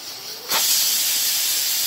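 A pressure cooker cooking beef lets out steam: after a quiet moment, a loud, sudden hiss bursts out and carries on steadily to the end.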